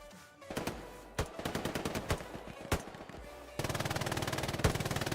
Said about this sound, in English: The MG's out in force.